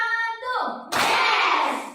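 In a classroom clap game, a group chant by voices gives way to a sudden, loud burst of many hands clapping together, which then rings on briefly.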